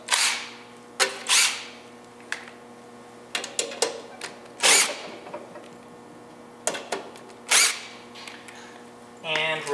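Screws being removed from the bottom box of a kiln with a power driver, heard as short whirring bursts and metallic clicks, close by, with uneven pauses between them.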